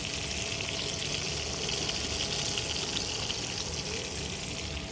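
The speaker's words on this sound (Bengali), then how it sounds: "বন্ধুরা যে মাছ ভাজা চলতেছে" Fish frying in a pan for a home-style fish curry gives off a steady, dense sizzle that holds evenly throughout, close and continuous with no voices.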